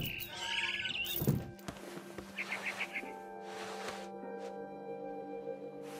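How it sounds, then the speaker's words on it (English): Barn swallow chirping just outside a window in the video game What Remains of Edith Finch, a short burst of quick tweets amid light ambient sound and soft knocks. "Then I heard chirping outside my window. It was a barn swallow going back to her nest."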